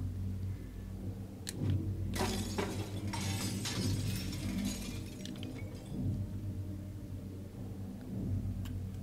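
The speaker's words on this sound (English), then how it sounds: "Break the glass. Make a noise." Glass shatters in the video game Little Nightmares, a burst of crashing, tinkling fragments spread over a few seconds above a steady low rumble, fairly faint in the mix.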